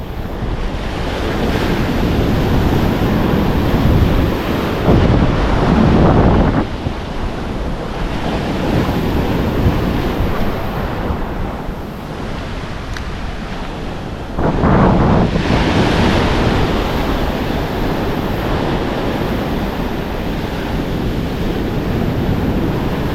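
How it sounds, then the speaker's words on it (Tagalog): Ocean waves break and wash continuously, loud and close, with heavy wind buffeting the microphone and surges of surf rising and falling. "basagan ng alon"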